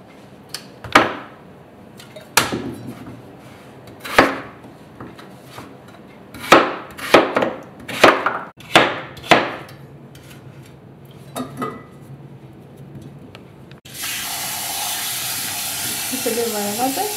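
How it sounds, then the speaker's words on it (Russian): Potatoes are sliced with a kitchen knife on a board in about nine distinct, sharp chops spaced unevenly, followed by a steady hiss of running water. "Нарезаю картофель."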